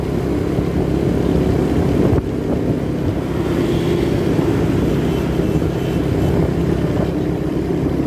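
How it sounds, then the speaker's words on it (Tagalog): A motorcycle cruises along the road in fair weather, a steady engine drone mixed with heavy wind rush, close and loud throughout. "magandang bumiyahe ng ganitong motor"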